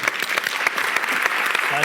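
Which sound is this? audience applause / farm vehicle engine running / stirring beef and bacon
audience applause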